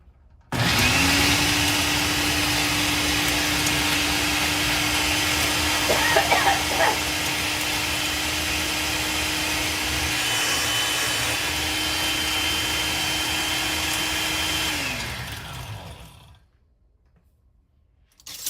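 A blender grinds dried, crispy ginger into powder: a loud, steady motor whine with coarse rattling that runs without a break for about fourteen seconds, then winds down and stops, leaving near silence.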